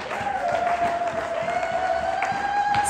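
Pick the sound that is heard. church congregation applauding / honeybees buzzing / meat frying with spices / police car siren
church congregation applauding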